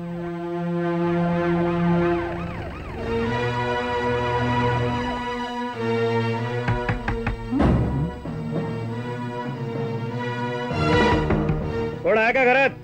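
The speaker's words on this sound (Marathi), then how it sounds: "सायरन?" A wailing siren rises and falls in repeated sweeps, loud and close, mixed with dramatic film music and scattered sharp hits, in a Marathi action film scene; speech also occurs.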